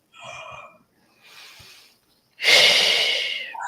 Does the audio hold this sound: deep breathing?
yes